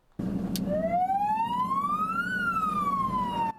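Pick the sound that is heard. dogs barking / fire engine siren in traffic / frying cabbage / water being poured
fire engine siren in traffic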